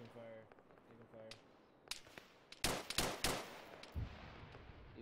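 Airsoft gunfire during a milsim game: a few distant pops, then a burst of loud, sharp cracks in rapid uneven succession, with faint voices early on.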